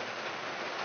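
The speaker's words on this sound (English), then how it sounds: "Very mean rain. It's pouring cats and dogs right here in Louisiana." Heavy rain pouring down in southern Louisiana, a dense, steady hiss that fills the whole stretch with no break and no voices over it.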